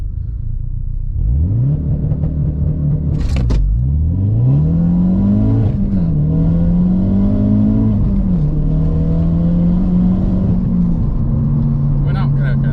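Ford Focus RS MK3 launching hard with wheelspin, its engine revving loud and close as pitch climbs through several rising sweeps and dips between gear changes, with people talking over the roar.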